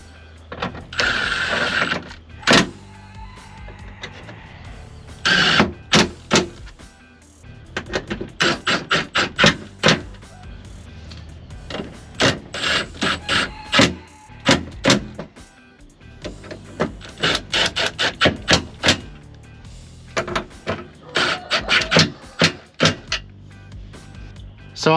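Bolts being snugged down on a car window regulator assembly with an aftermarket Dorman unit, a close series of clicking ratchet bursts and metallic taps in irregular clusters, fairly loud.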